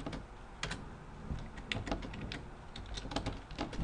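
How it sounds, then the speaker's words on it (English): Steady typing on a computer keyboard, close and fairly quiet, with irregular bursts of key clicks and short pauses, no talking. "I'm actually going to type it."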